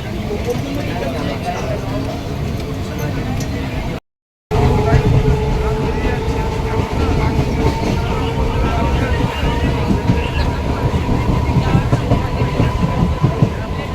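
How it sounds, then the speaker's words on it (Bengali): A Bongaon-Canning local train near Birati in Kolkata runs with a loud, steady rumble and rattling carriage clatter from inside the coach, with a brief silent gap and muffled voices in the background. "বন্ধুরা আমাদের ট্রেন এখন বিরাটি এসে পৌঁছলো"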